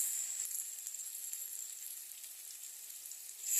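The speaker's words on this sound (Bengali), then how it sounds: "এখন এটার মধ্যে আমি জল দিয়ে দেবো।" Pan of potato and pumpkin frying for a Bengali loita shutki dish hisses in a steady, close sizzle as water goes in, the bright hiss swelling again at the end, with no voices.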